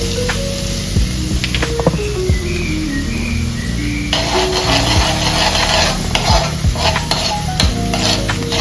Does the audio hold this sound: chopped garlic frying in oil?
yes